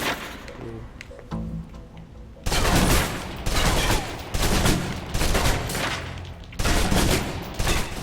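A submachine gun in the Alpha Protocol video game fires in long automatic bursts, loud and close, with short pauses between strings of rapid shots.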